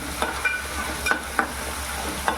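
Green chilli, garlic and ginger sauté in a pan with a soft continuous sizzle, punctuated by a few distinct scraping clicks of a spoon stirring, close and alone.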